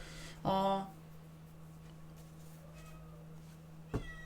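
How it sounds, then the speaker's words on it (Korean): Cats meowing indoors: one drawn-out meow rings out near the start, then a short second cry comes near the end, both over a faint steady hum. "고양이들이 울고 있어요."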